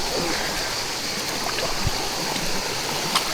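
A wild river current rushes steadily, a broad continuous roar of flowing water close by, with faint splashes now and then.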